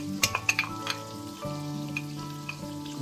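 Diced garlic and onions fry in a soup pot over medium heat for a potato soup, with a steady low sizzle, a few sharp crackles and clinks near the start, and no voices.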